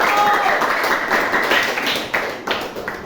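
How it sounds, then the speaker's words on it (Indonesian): Applause from a classroom group of teachers, scattered hand claps that start fairly loud and thin out over about three seconds into a few separate claps. "Kita berikan aplaus untuk kelompok 1."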